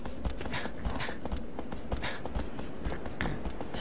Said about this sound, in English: tapping X actually does make you run faster on the horse